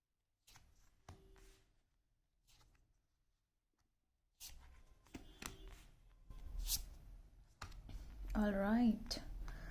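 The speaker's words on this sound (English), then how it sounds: "One more shuffle, please." Tarot cards being shuffled, soft riffling and papery slides in short bursts, close and quiet, with a few brief bits of speech in between.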